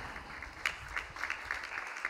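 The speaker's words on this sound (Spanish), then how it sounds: "yo creo que también se merece un aplauso" Faint, distant applause rises from the crowd at the presentation of the Lointek Gernika women's basketball team for the 2019-2020 season, a soft steady patter of clapping with a few sharper claps.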